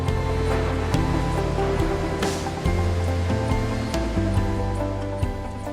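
A continuous, loud industrial roar as molten iron pours from a foundry furnace tilted almost 90 degrees into a ladle, with steady rushing noise under low mechanical hums that shift pitch in steps.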